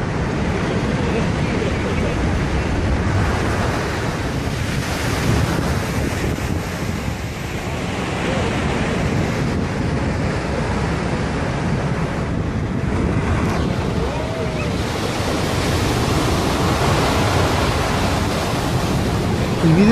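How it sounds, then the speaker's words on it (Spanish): Huge ocean waves crash and roar continuously against the seafront promenade of Paseo Nuevo, San Sebastián, Spain, with heavy wind buffeting the microphone throughout. "Aquí vemos unas gigantescas olas azotando las costas del Paseo Nuevo San Sebastián Donostia."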